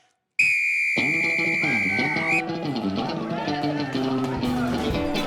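A whistle blown to start an outdoor team game, a loud, steady blast lasting about two seconds, followed by crowd noise and a voice.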